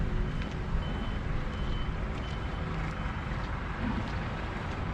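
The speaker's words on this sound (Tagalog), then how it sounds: "At parating na rin yung bus na sasakyan natin." A bus pulling in with reversing beeps sounding through steady loud engine rumble and crowd murmur outside a vaccination site, the beeps repeating faintly above the dense low noise.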